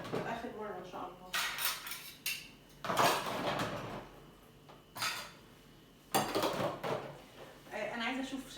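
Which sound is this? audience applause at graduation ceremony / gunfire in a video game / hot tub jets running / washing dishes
washing dishes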